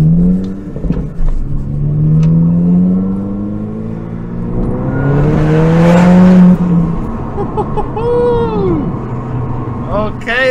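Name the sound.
Seat Leon FR Mk2 Stage 2 pulling off and accelerating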